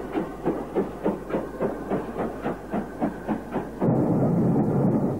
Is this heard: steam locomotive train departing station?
yes